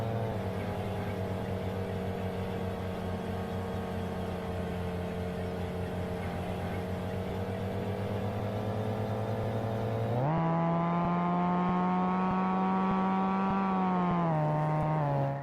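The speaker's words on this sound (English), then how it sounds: "The engine sound is also really nice." Steady droning engine hum of a race car in the Roblox game Jailbreak, holding one pitch, then jumping higher as it revs and sustains, dipping slightly near the end.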